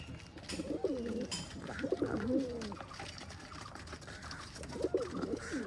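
Pigeons coo in low, repeated rolling calls while being fed in the morning, the phrases coming in several bursts over steady background noise with no talking.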